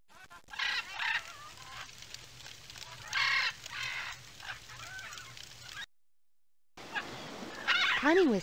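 Cartoon birds in It's A Bird's Life on the 3DO honk and cluck in bursts of squawking calls, some goose-like, separated by quiet gaps and a full dropout, fairly close and lively.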